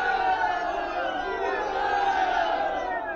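A large crowd cheers and shouts in acclaim of their newly elected deputy, a dense, steady roar of many voices sustained throughout, with no quiet gaps.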